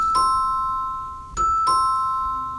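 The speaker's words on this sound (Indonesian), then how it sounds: "Suara bel mengejutkanku." Doorbell sound effect: a clear electronic ding-dong chime rings once, then twice more in quick succession, bright and close with no talk over it.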